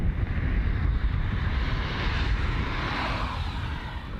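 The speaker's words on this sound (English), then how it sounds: "Slowing down there on runway 16 we have Jetstar flight JQ853 from Hamilton Island" A Jetstar airliner slowing down on runway 16 at Melbourne Airport after arriving from Hamilton Island, a loud, steady, broadband engine roar that holds throughout, with no voices.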